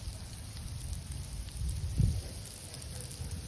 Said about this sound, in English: This is a lot of hail.